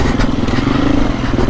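A 2024 KTM EXC-F 350 dirt bike engine on a rocky hard enduro ride, a close, loud, uneven mid-pitched drone with clattering and thumping from the terrain and no speech.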